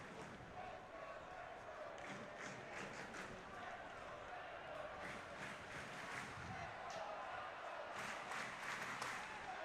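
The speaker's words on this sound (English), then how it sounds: "Crowd coming to life." A football stadium crowd in Houston at a U.S. Open Cup soccer match, Houston Dynamo versus Sporting Kansas City, stirs into a steady roar with scattered clapping and shouts, sustained and fairly distant throughout.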